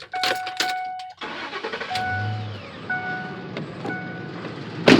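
A car engine cranks and catches after a few warning chimes, then idles with a steady low hum and a ticking note, the chimes returning now and then until a sharp clatter at the end.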